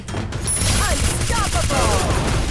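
Gunfire in a shooting video game, rapid bursts of shots with ricochet-like whines and booms, loud and continuous, with faint voices mixed in.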